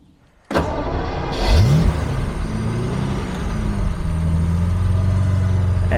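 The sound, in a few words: Jaguar E-Type V12 engine starting and revving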